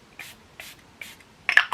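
Beauty Co-op Ooh Cherry hydrating face setting mist sprayed from a pump bottle in three short, evenly spaced hissing puffs, then a louder, closer burst at the end, with no talking.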